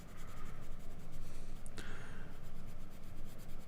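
Pencil, held on its side, shading across paper while drawing misty trees, a soft continuous scratchy rubbing heard up close and alone, with one brief sharper scrape partway through.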